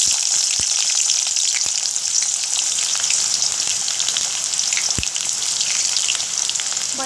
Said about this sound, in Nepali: मैले चाहिँ प्याज हालिसकेको छु अनि अब यसलाई रातो भइन्जेलसम्म फ्राई गर्छु है, ब्राउन हुने गरी रातो।